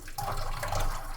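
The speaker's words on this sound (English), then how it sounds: "And then I'll get some hot water, or lukewarm water, and just run it through" Lukewarm water running through the pipes of a brass instrument during cleaning: a continuous gurgling, splashing flow with bubbly surges, close and moderately loud, with no voices.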